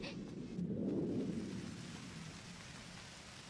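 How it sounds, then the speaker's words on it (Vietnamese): A thunderstorm with a low, rolling rumble of thunder swelling and fading over steady rain, set in an animated mountain scene with no voices. "trời sắp mưa rồi"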